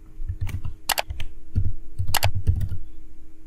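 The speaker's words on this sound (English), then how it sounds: "I will simply type here" Someone types on a computer keyboard, giving short bursts of close, crisp key clicks in an uneven rhythm with brief pauses, alone and fairly loud.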